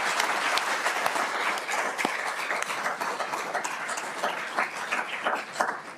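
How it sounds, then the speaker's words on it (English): Sustained applause from an audience at a law school graduation cord ceremony, many hands clapping in a dense, bright wash with a few sharper nearby claps standing out, holding steady throughout. "Huge round of applause to you."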